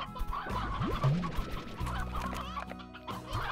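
A hen in the Slime Rancher video game clucks and squawks in a close run of calls, set over looping game music.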